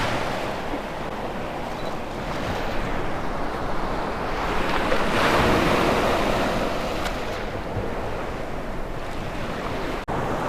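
Ocean waves and surf washing against the rocks beside La Tour at Laguna Beach, a continuous broad roar that swells and eases, with some wind buffeting, loud and close.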